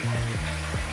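Tap water runs steadily into a sink while shave cream is rinsed off after a wet shave, a constant close rushing flow with a few shifting tonal swells.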